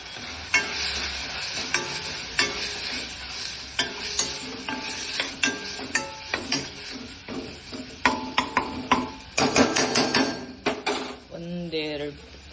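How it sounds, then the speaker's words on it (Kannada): Masala spices frying in oil in a pan with tomato, for a fenugreek chana dal palya; a utensil stirs and scrapes in repeated sharp clatters over a soft sizzle, with a brief clank near the end. "ಎಲ್ಲ ಮಸಾಲ ಹಾಕ್ಬಿಡೋಣ."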